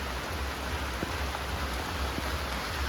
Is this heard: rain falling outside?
yes